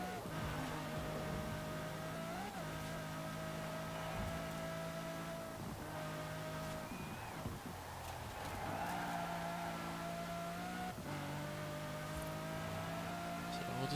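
A Maserati MC12 Corsa race car's engine drones and rises as it accelerates around a circuit in a racing game, a steady tonal whine that shifts pitch at each gear change, close and continuous.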